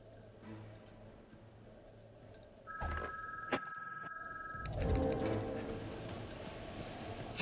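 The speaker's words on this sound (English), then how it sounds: "Phone's ringing!" A telephone ringing: a faint, steady electronic ring tone of about two seconds that starts abruptly and stops, preceded by quiet background sound and followed by a low, noisy rumble.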